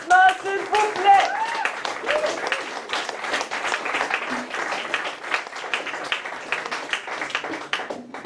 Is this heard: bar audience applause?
yes